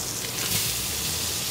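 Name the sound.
blackened fish fillet sizzling in a pan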